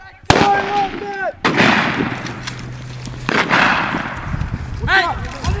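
Live rifle fire from a WWII-style squad tactics drill cracks out in a few sharp, loud shots close by, with shouted commands and voices calling between them.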